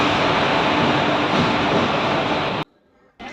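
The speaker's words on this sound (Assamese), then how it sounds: "এই আমাৰ ট্ৰেইনখন আহি গ'ল" A train arriving at Kamakhya station platform makes a loud, steady broadband roar close by. The roar cuts off abruptly near the end, leaves a brief hush, then resumes.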